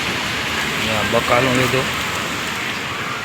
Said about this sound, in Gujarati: જો નાગપુરમાં વરસાદ ચાલુ થઈ ગયો અટાણા ફૂલ